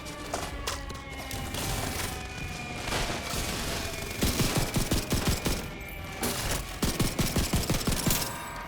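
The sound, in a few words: gunfire in video game The Division 2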